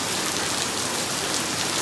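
Heavy rain pours steadily in a dense, even hiss with no breaks and no voices.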